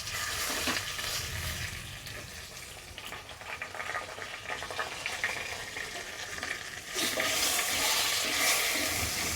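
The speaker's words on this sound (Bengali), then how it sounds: "এবার এতে আমি তেজপাতাটা দিয়ে দেবো" A bay leaf sizzling in hot oil while potato curry cooks, a steady frying hiss that swells louder in the final seconds, close by with no talking.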